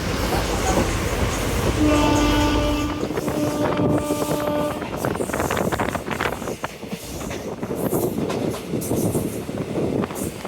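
Rameswaram Amritha Express train running near Palani, a loud steady rumble and rattle of wheels and carriages throughout, with a sustained horn-like tonal blast early on and wind buffeting the microphone.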